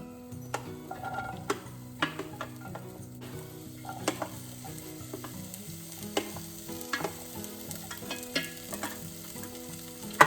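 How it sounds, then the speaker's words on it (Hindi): Beans frying in a small amount of oil, a close, steady sizzle with frequent sharp clicks of a spatula stirring against the pan and no talking. "तेल कम से कम डालूंगी मैं इसमें पहले बीन्स डाल रही हूँ"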